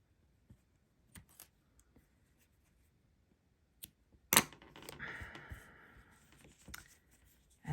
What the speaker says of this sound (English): I'm going to snip them off